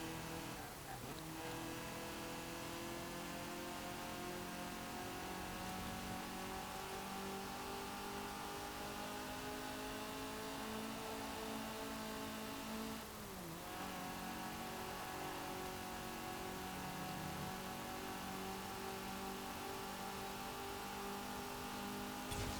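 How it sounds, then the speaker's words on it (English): A 1970 Ford GT70's Cosworth-derived engine in Forza Horizon 4 drones continuously at a high, steady pitch, with a brief dip and rise in revs partway through, loud and alone. "I'll let you listen to the engine for a little bit."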